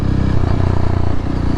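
Honda CRF300L with a loud aftermarket exhaust and the baffle removed, idling close up with a deep, steady, throbbing rumble and no voices.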